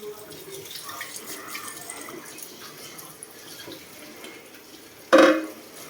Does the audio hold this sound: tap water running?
yes